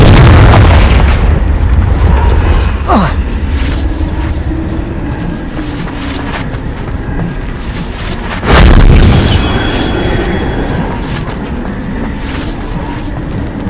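Confringo blasting spell explosions in Hogwarts Legacy, a loud deep boom at the start and another sharp blast midway, each rumbling out into a fading tail, with game ambience between.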